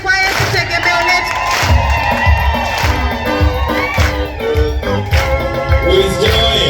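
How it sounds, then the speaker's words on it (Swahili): Worshipping congregation at a Swahili service cheering and ululating for Jesus, loud overlapping shouts and high trilling cries over ongoing musical tones, sustained and close. "Wapi shangwe na vigelegele kwa Yesu, tegemeo letu"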